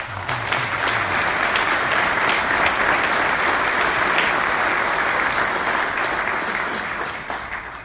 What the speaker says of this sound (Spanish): pido un aplauso por él